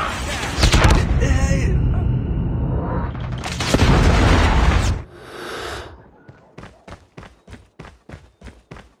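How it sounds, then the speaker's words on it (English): A predator missile strike in the mobile shooter Call of Duty Mobile: a loud, sustained roaring blast for about five seconds, then a quieter run of evenly spaced sharp thumps, like rapid gunfire or footsteps, fading out. "Predator missile inbound."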